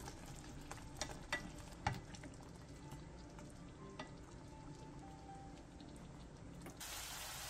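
Tofu simmering in a seasoning sauce in a pan, a steady soft sizzle and bubbling with a few light clinks and taps, no voices.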